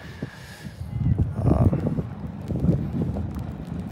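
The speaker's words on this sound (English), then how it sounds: "A lot of wind out there." Strong wind blowing outdoors at a football game buffets the microphone in low, rumbling gusts that swell and fade, with faint crowd or background noise underneath.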